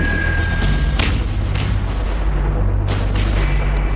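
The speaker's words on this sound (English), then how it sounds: "The Marines start by firing a spotting round." An M777 howitzer fired by Marines sends out a spotting round, heard as several sharp, loud booming blasts with rumbling low-end reverberation between them, close and powerful in an open field setting.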